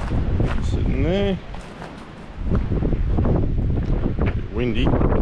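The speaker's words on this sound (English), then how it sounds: "Bit windy." Strong gusty wind buffets the microphone outdoors at a rural bush camp in Western Australia, a loud continuous roar that dips briefly, with people talking over it.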